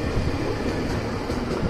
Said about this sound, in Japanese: この電車は区間快速東西線の方に入ります電車です。